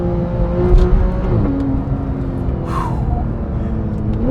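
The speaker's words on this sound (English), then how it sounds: "supported by that amazing exhaust note" A stock 991.1 Porsche 911 GT3 drives along, its engine droning loudly from inside the car with pitch sliding down and rising again as the revs shift.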